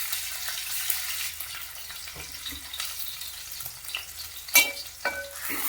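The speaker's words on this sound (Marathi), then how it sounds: "कढीपत्ता आलं लसूणची पेस्ट टाकतोय." Curry leaves and ginger-garlic paste frying in hot oil for a bombil curry, a continuous crackling sizzle with scattered stirring clinks and a brighter spatter burst late on.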